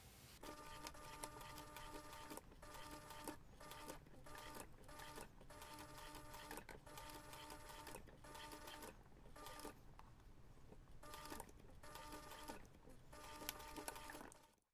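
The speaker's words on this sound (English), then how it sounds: "take this to the machine and top stitch around the entire piece" A sewing machine top stitches around a fabric Christmas tree ornament, a steady close rapid whirring hum that runs for nearly fifteen seconds, broken by brief pauses and restarts.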